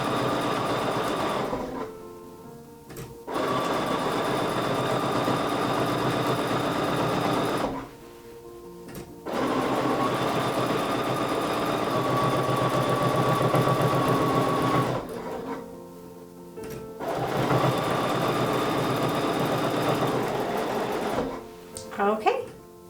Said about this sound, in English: Line it up, and then give it a stitch.